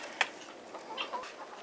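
A young rooster gives a few short, soft clucks and chirpy calls, brief scattered notes close by against a quiet backyard background with no talk.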